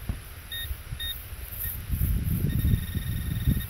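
A Garrett AT Pro metal detector gives short high beeps, a pair early and a longer tone later, over rustling and handling noise close by.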